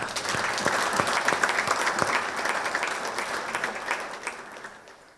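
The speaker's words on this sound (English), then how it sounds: "I think that deserves a round of applause." An audience at a community CPR and chain-of-survival event bursts into steady, sustained applause that fills the room, then slowly tapers off near the end.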